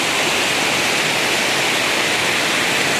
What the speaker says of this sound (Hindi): रास्ते में कितने तेज पानी आ रही है, आप ये देख सकते हैं कितना तेज पानी आ रहा है।